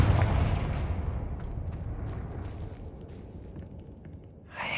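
A Confringo fire spell explodes in Hogwarts Legacy, a loud broadband blast at the start that rumbles and decays over several seconds, with a fresh burst of noise near the end.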